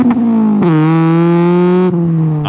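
A Honda Civic EJ9 with a replica Spoon N1 exhaust revs hard close by, a brief blip then a held high-rpm rasp that drops off sharply, loud and raw.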